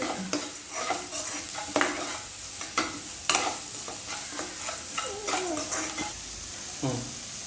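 Onions sizzle and crackle in a hot pan, with repeated scraping and stirring strokes from a utensil and occasional clinks against the metal.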